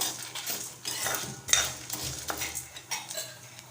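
Dal and dried red chillies dry-roasting in a pan, stirred with a metal spoon that scrapes and clinks against the pan in close, steady strokes, with one sharper clink near the middle.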